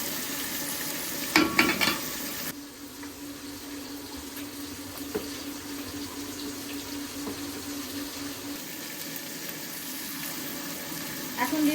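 Onions and tomato frying in a pan on an electric stove, a steady soft sizzle with occasional stirring clatter and a louder clink near the start.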